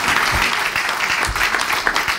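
A church congregation claps loudly and steadily in sustained applause during a sermon, with a dense wash of hand claps and no talk above it.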